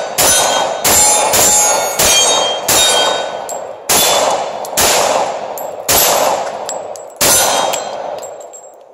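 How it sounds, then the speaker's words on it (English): A Glock 21 pistol firing .45 rounds through one magazine, roughly a dozen loud, sharp shots at an uneven pace, each followed by a ringing echo, with no voices. "It's going to be the Glock 21. I'm only going to run one mag through this"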